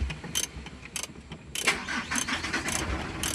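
A Mitsubishi Canter truck's 4M42 diesel engine, which has a check-engine fault and low power, cranks briefly and catches on one click, then settles into a steady, close-up running rumble with a few sharp bursts.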